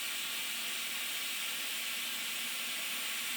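Steam locomotive safety valve lifting at about 110 psi, a loud, steady roaring hiss of escaping steam with no break and no voices.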